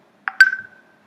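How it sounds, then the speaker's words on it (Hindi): A telephone sounds during a physics lesson: a short tone, then a brighter electronic beep that rings on and fades over about half a second, clear and isolated against silence. "फोन भी आते रहते हैं बीच में"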